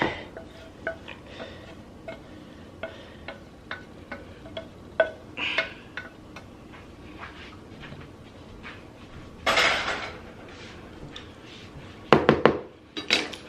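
Seafood dressing ingredients being stirred and scraped in a bowl, a string of irregular clinks and knocks from a utensil against the dish, with louder clattering bursts near the end and no talking.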